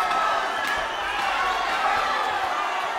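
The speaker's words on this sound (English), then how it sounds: "As the crowd now cheering in acknowledgement of Javier Meraz" A boxing crowd at the Salon Mezzanine in Tijuana, Mexico roars steadily for a fighter, a dense, continuous wash of cheering and shouting voices filling the arena without a break.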